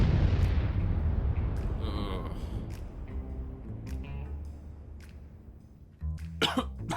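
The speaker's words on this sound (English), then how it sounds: "I don't know what caused that explosion" A video game explosion in Abandoned: a loud boom that rumbles and decays over several seconds, followed by softer game sounds and a sharp burst of noise near the end.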